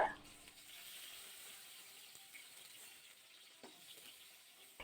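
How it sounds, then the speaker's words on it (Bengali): Pointed gourd (potol) frying in mustard oil, a faint, steady low sizzle with a few quiet stirring clicks, heard close but at low volume throughout. "পটলগুলো নাড়াচাড়া করে কিন্তু ভাজা করে নিতে হবে"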